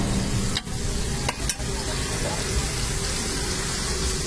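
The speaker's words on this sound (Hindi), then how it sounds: "अभी बर्गर फ्राई होगा।" A burger frying on the griddle of a tuk tuk rickshaw street stall gives a dense, loud, steady sizzle like rain, broken by a few brief scraping knocks.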